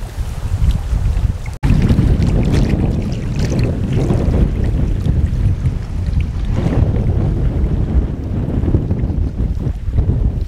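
Strong wind blasting across a microphone on a steep mountain outing: steady, loud, roaring gusts with one brief dropout near the start and no voices.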